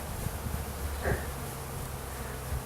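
Honey bees hum in a low, steady drone as they are dumped into a top bar hive, a faint swarm buzz with a few soft thuds.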